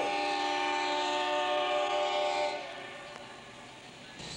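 A passing train with its horn sounding, illustrating the Doppler effect: a loud sustained multi-tone blast that drops in pitch and fades as the train moves away, with rumbling rail noise beneath.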